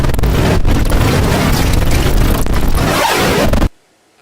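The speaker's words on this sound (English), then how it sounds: "Okay, and then a noise loop." A noise loop in an electronic music track: a dense, loud wash of broadband noise with a few brief dips that cuts off abruptly near the end, no voices.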